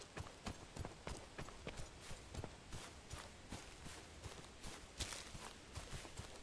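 A horse's hooves clip-clop at a steady walking rhythm while riding in the video game Robin Hood Sherwood Builders, faint and even, with no talking.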